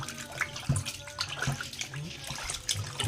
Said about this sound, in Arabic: تعالى بقى نغسل الفراخ بتاعتنا اللي احنا كنا نقعينها